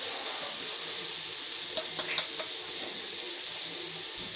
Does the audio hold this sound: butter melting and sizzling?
yes